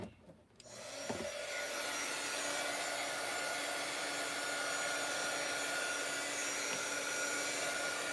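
A hair dryer blows steadily at close range, drying ink on a parchment paper envelope; a brief click or handling noise comes just before the continuous whooshing drone, which holds loud and even for several seconds.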